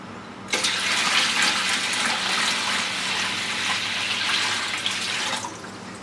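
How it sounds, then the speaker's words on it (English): A gallon of liquid poured into a tank, a loud steady gush of splashing flow that starts abruptly and runs unbroken for about five seconds before cutting off. "And we'll pour in our next gallon."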